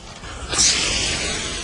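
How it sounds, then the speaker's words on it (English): A burst of hissing spray from a hose starts abruptly and continues steadily, a broad rushing wash of water hitting sand, fairly close and alone. "Now just start spraying the sand."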